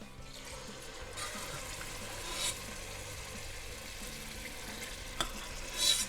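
Quiet, steady sizzling and crackling of chickpeas frying in hot oil, with a few brief louder spits and pops as their water hits the oil.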